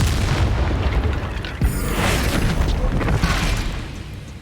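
Explosions from the Bombarda spell in the video game Hogwarts Legacy erupt as loud, dense booming blasts with a sharp crack partway through, rumbling continuously for several seconds in a noisy combat scene.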